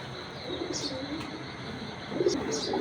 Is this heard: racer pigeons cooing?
yes